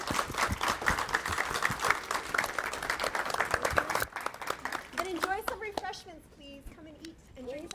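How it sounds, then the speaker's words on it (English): A room of attendees applauds at a student literary magazine unveiling event. Steady, fairly close clapping fills the first half, then fades under several people talking as the crowd breaks up. "Give yourselves a round of applause"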